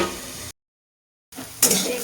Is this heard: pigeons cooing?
no